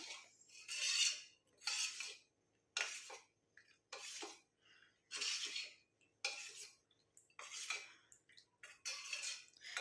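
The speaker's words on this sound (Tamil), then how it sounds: "இப்போ நல்லா நம்ம இதை வந்து கட்டிகள் இல்லாமல் மிக்ஸ் பண்ணி விட்டுக்கலாம்." Rice flour and cornflour paste being mixed in a bowl for a face pack, soft repeated spoon scrapes and swishes in short bursts with quiet gaps, close and fairly faint.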